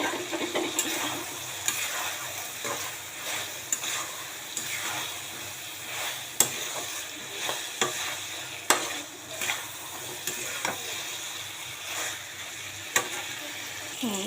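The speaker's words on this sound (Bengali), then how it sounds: "দেখেন আমার মশলাটা কষা হয়ে গেছে, একদম ভাজা ভাজা হয়ে গেছে মশলা।" Spice paste frying in a pan for a rohu fish roe curry, with steady sizzling broken by repeated scrapes and knocks as it is stirred close by, no voices present.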